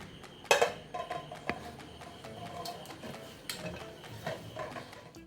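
Orange gel pudding scraped and turned out into a serving dish in a home kitchen, with a few light clinks and taps of utensil against the dish, plus soft scraping and handling noise, close and quiet with no talk.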